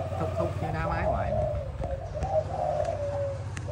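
Malaysian spotted dove cooing, a young bird, with soft repeated low coos running through the clip under steady background noise and a voice talking.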